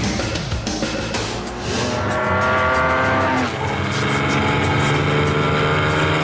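A sports car engine roars loudly as it accelerates hard, its pitch climbing steadily, with a brief tire squeal in the mix.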